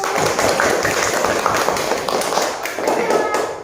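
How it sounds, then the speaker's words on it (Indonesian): Classroom applause in a primary school lesson, a dense continuous patter of many children clapping at close range, with some voices and shuffling mixed in throughout. "Tepuk tangan dulu."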